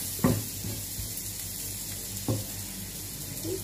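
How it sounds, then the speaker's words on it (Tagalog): Food sautés in leftover bacon fat for a carbonara sauce, a soft steady sizzle with a few light clinks of a utensil against the pan. "Ito ko igigisa para magkaroon ng lasa ang aking"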